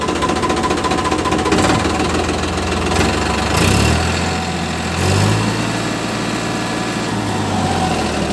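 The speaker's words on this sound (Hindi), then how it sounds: "दिखाओ स्टार्ट, एक बार स्टार्टिंग दिखाओ।" A 2009 Farmtrac 60 tractor with a sealed, never-repaired engine idles loudly and steadily up close, a rough knocking diesel chug that surges a couple of times with no talking.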